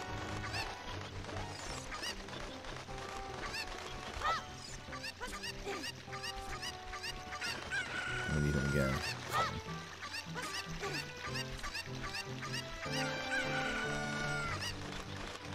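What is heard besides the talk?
chicken clucking in video game Zelda Ocarina of Time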